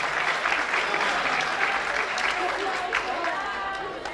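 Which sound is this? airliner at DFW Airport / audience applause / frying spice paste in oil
audience applause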